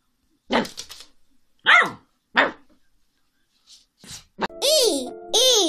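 A dog barks a few times, short sharp yelps near the end after a series of brief voiced calls, close and fairly loud against silence.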